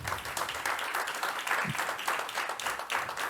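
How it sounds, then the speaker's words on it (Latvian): A crowd applauds steadily, dense clapping filling the whole stretch without pause, at a 2023 road safety index award ceremony in Latvia. "Sagaidām ar aplausiem."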